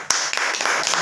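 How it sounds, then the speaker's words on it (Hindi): A brief burst of clapping from a group at a training session, a short sharp onset followed by a second of dense, fairly quiet applause. "तो मैं चाहूंगा एक बार रोहित देवांगन सर के लिए भी जोरदार ताली हो जाए।"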